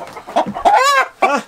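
An Indian rooster clucks loudly and close, in a few throaty bursts with one drawn-out, rising call in the middle, and no talking.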